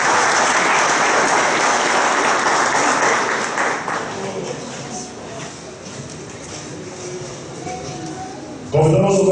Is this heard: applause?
yes